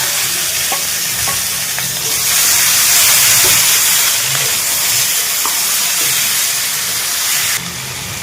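Potatoes and onions fry in a pan for a jackfruit and shrimp curry, producing a loud, steady sizzle and hiss with occasional stirring clinks and no voices.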